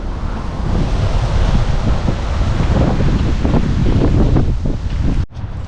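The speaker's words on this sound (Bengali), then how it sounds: "খুব জোরে হাওয়া দিচ্ছে" Strong wind buffets and roars steadily across the microphone, loud and continuous, cutting out abruptly near the end.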